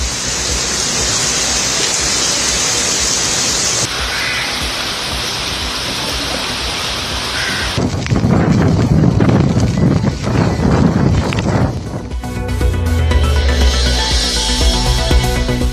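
Heavy rain and gusting wind from Cyclone Remal roar loudly and continuously in several separate outdoor shots, with dense broadband noise throughout and no voices.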